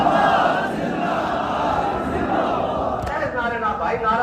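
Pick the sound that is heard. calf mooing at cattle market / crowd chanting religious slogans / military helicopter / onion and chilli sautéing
crowd chanting religious slogans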